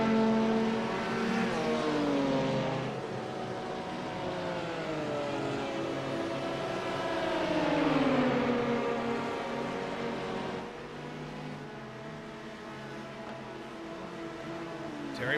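Race cars in a racing video game roar down the long straightaway at Fuji, engine notes rising and falling steadily as they run close together in a slipstream, loud and continuous.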